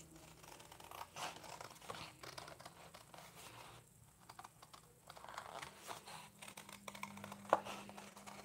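Scissors trim material for a handmade sandal with quiet, close snips and scratchy handling sounds over low background noise. One sharp click stands out near the end.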